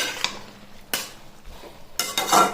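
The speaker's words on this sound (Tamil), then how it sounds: "தக்காளி பச்சை வாசம் போட்டும் நல்லா மிக்ஸ் பண்ணிக்கோங்க" Tomato chutney being stirred in a pan, with a few distinct scraping strokes of a spoon against the metal, spaced irregularly and close by, over a faint background hiss.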